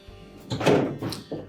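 A Frigidaire dishwasher door panel, removed during a detergent dispenser repair, gives a few close, dull thunks and knocks as it is tilted up and handled.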